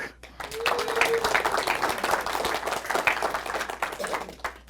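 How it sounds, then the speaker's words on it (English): A crowd applauds Harper at a science demonstration on deception, a sustained wash of clapping with some voices mixed in. "A big round of applause for Harper."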